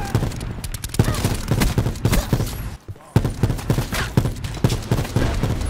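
Rapid automatic gunfire in the Black Ops 4 video game rattles out in dense bursts of sharp close shots, pausing briefly midway before resuming at the same fast rhythm.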